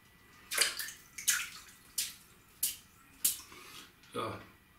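Tap water splashing in short bursts as a shaving brush is wetted and shaken during a wet shave, about six separate sloshing pulses, close and fairly loud, with no talk over them.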